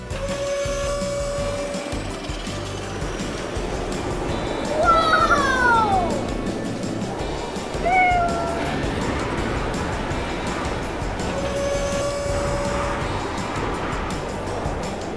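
A cat meows during a fire truck rescue, a few short rising and falling cries standing out over steady background noise and low rumble.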